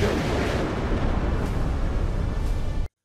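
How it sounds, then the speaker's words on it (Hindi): Continuous heavy rumbling blasts from a drone attack on Sergiev Posad near Moscow, a dense, loud roar of booming explosions sustained for about three seconds before cutting off abruptly. "रूस की राजधानी मॉस्को के पास सर्गिएव पोसाद शहर में ड्रोन अटैक हुआ और शहर में 4 धमाके हुए, जोरदार धमाके"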